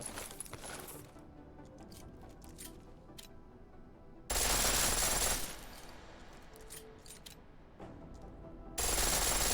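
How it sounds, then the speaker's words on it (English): A pistol fires in full-auto bursts in Deus Ex: Mankind Divided: a loud burst of rapid shots that runs for about a second, then a second burst starting near the end, with quieter game ambience in between. "The pistol in full auto will take down targets fast, but it'll burn through your ammo"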